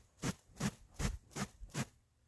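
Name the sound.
rustle of common raven wing feathers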